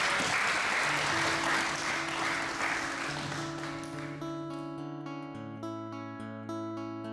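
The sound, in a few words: applause among pilgrims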